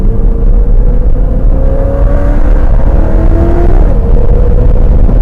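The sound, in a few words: Super Bee car engine accelerating out of corner at Putnam Park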